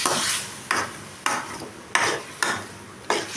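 Chicken gravy masala stirred and sautéed in a pan, a spoon scraping through the thick mixture in six regular strokes about half a second apart, close and clear with a soft sizzle underneath and no talking.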